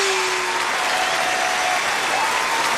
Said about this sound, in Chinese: 哎呀，这掌声，这掌声多有营养，这掌声啊！